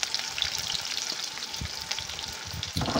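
Onions frying in hot oil for a desi chicken curry, a steady close sizzle and crackle with a few soft stirring knocks, and no talk.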